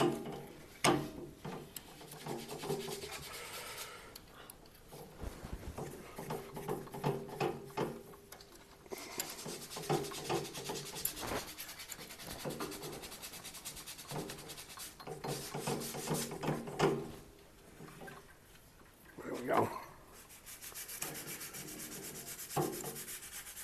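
A drill boring a 5 mm hole down through the center of a wooden guitar neck for a threaded insert, with a steady grinding, rasping whine that surges and eases in several long passes, with brief pauses.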